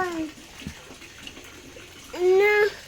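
Rain falls in a village as a continuous, soft wash of water noise. Voices talk over it near the start and end.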